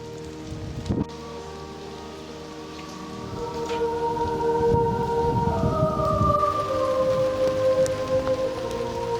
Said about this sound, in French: un déferlement de pluie sous un ciel dangereusement chargé nous obligera à repousser chemin